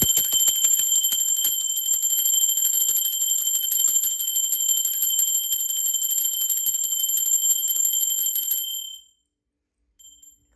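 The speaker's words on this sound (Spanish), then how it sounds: "Ahora sí, va campana." A bell rings continuously with a bright, sustained high-pitched shimmer and rapid metallic striking, loud and close for about nine seconds before cutting off, then a brief faint chime near the end.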